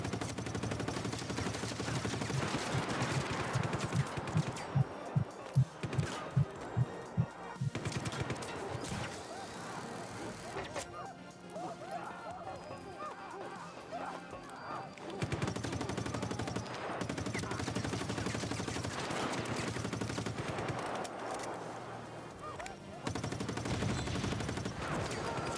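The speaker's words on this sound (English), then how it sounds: "Guy's on a minigun down there." Minigun fire in a video game, a fast, sharp burst of rapid shots early on, set among heavier, cluttered game noise with booms and mechanical clatter that rises and falls.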